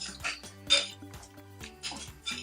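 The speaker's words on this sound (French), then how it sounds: "On mélange le déjeuner spaghetti." Utensil clinking against a dish while spaghetti omelette mixture is stirred, a quick series of light metallic taps and scrapes, close and fairly faint.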